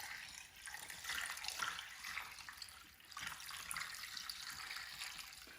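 Warm homemade vegetable stock pours in a steady liquid stream into storage moulds, a soft continuous splashing and trickling that swells and eases slightly, close and alone without talk.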